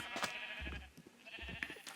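Sheep bleat in Minecraft, two short low bleats about a second apart over a faint background, with no talking.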